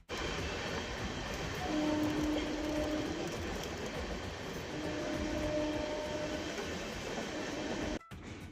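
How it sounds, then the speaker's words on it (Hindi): A train pulling out of Ludhiana railway station, heard from on board as a steady, fairly loud rumble and rattle with faint tonal whines, running continuously before an abrupt cut near the end. "थोड़ी देर बाद फिर हमारी ट्रेन भी चल पड़ी।"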